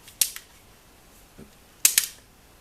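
Metallic clicks and snaps from a Sig Sauer P226 pistol as the decocker lowers the hammer, a pair of sharp close clacks followed after a pause by another quick double click.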